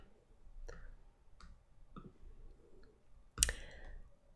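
Computer mouse clicks during a software tutorial, a handful of sharp, close, isolated clicks spaced about half a second to a second apart in a quiet room, the last one louder.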